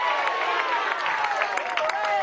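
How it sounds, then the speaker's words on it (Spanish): Applause for the Secretary General of the CLAP at a Venezuelan political rally, a sustained wash of crowd clapping and cheering that holds steady throughout, with a voice calling out over it. "vamos a dar un aplauso al Secretario General"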